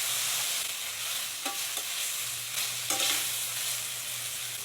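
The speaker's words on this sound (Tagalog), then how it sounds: "Ngayon, igisa na natin ang sibuyas at bawang." Onions and garlic sautéing in a pan, with a steady close sizzle and a few scraping stir strokes against the pan, no voices.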